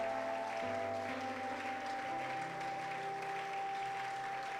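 A church congregation at a fasting and prayer service bursts into sustained applause and cheering, a dense, steady wall of clapping with a faint held keyboard tone beneath.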